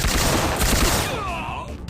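Gunfire in the PlayStation game Syphon Filter, with shots fired through a bulletproof vest: a loud, dense burst of rapid shots fills the first second, then fades into ringing, sweeping tones.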